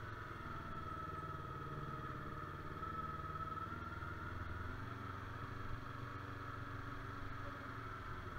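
A Yamaha motorcycle engine runs steadily at a constant, faint mid-pitched drone with a slight hum, unchanging throughout and without any voices.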